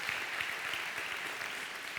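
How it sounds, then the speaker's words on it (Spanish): A church congregation applauds together, a steady wash of fairly soft clapping that holds evenly without a break. "Démosle un aplauso a Dios por Mau."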